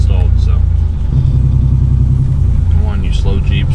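Car with a low-mileage BMW M20B25 inline-six engine on the road, a loud, steady low rumble from inside the cabin as it drives at modest revs, with someone talking over it.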